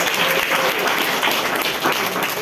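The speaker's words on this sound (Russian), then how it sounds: "давайте похлопаем, Вика." Audience applause, a dense and steady wash of clapping close by, sustained evenly for about two seconds with no voices over it.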